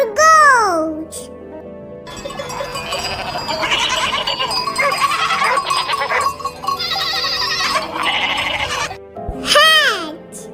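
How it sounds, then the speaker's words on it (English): A goat bleats at the start and again at the end, wavering cries close and clear, while a stretch of bright music or chatter fills the middle. "G for goat"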